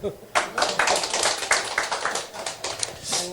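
Several people clap hands together in uneven, sparse bursts at a lively toast-making gathering over drinks, with a voice talking over the claps.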